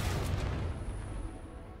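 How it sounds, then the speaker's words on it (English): A dynamite explosion in the video game Trailmakers lands as one deep, heavy boom, followed by a low rumble that slowly fades out with no talking. "Let's just give that explosion a quick test."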